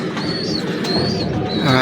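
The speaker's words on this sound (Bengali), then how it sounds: "এক পেয়ার কামাগার কবুতর দেখাচ্ছি।" Kamagar pigeons coo close by against a constant noisy background, with soft repeated calls running through the short stretch.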